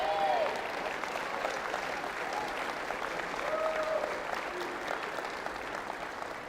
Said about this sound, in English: Let's give President Henry a round of applause.